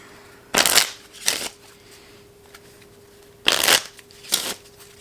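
A deck of playing cards is riffle-shuffled in two pairs of quick, crisp bursts, with pauses between them, each burst a sharp ripping flutter heard up close in a quiet room.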